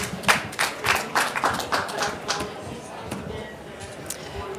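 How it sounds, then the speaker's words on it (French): A small audience at the COP28 Indigenous Peoples Pavilion claps for a speaker, with scattered, uneven hand claps that are strongest at first and then thin out, while voices talk over them. "Veuillez applaudir pour elle"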